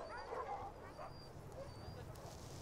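Sled dogs whimper and yip faintly at a dog-sledding outing, with thin high whines and yelps under nearby talk and outdoor noise.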